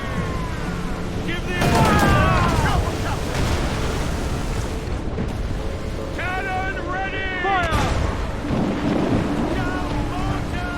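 Stormy sea on a sailing ship in Assassin's Creed IV: Black Flag: loud rumbling thunder and crashing waves with wind, swelling around the start and near the end, while voices shout over the din.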